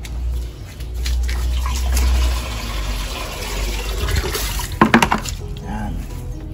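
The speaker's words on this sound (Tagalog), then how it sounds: "Lagyan natin kunti ng tubig." Water poured into rice-washing water in a container, meant for feeding bougainvillea, giving a steady close splashing and gurgling stream, with a few sharper clanks near the end.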